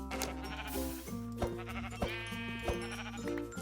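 Sheep in Minecraft bleating several times in short repeated calls over a steady tonal music bed, clear and close with no talk.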